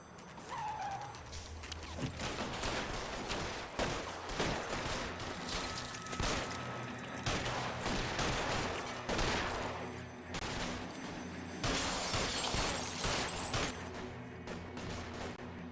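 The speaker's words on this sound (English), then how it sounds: "A lot of gunfights in this fucking one" Gunfight in L.A. Noire, with dense bursts of gunfire cracking in rapid volleys and scattered single shots over a constant background din, loud and close throughout.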